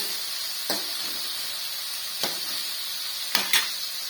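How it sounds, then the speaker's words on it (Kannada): One chopped onion fries in a pan for tomato sambar, giving a steady, even hiss of sizzling oil broken by three or four brief scraping stirs, close up and without speech. "ನೋಡಿ ಈರುಳ್ಳಿ ಇಷ್ಟು ಫ್ರೈ ಆಗಿದೆ"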